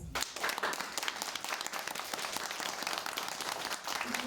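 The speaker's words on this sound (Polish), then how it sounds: "Wielkie brawa dla Was." An audience at a patriotic Independence Day school performance breaks into steady, dense applause that carries on throughout, with a few faint voices underneath.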